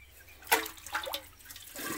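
Water from a dipped pot tipped over feet during washing outdoors on a farm, a short close splash followed by a brief trickling run-off.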